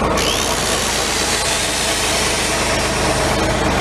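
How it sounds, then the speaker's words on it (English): A John Deere PTO-driven generator runs steadily close by, giving a loud, even mechanical hum with a fast rhythmic thrum and no pauses. "we've got a John Deere PTO generator."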